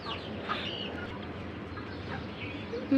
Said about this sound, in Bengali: এখানে অনেকগুলো মুরগি আর মোরগ আছে।